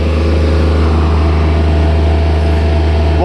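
A water-cooled diesel engine on an MPM 15/4001-K welder generator runs steadily at idle, a loud, even low drone throughout with no speech.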